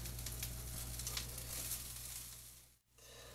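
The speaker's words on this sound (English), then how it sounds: "You can hear them sizzling." Food sizzles in a pan on the stove while pizza-style fit meals are being cooked, a steady, fairly loud crackling hiss that stays constant and then briefly cuts out near the end.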